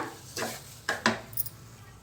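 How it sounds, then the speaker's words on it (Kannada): A kesari bath mixture being stirred in a pan over low heat as ghee is added, giving a few brief scraping, clinking strokes of a utensil against the pan, soft and close, with quiet gaps between. "ಗಟ್ಟಿಯಾಗೋ ತನಕನೂ ಹೀಗೇ ಮಿಕ್ಸ್ ಮಾಡ್ತಾ ಇರಬೇಕು"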